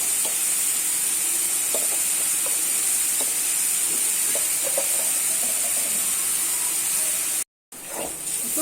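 Onions sauté in a pan for bread masala, giving off a steady, even sizzling hiss dotted with faint crackles and a brief break near the end.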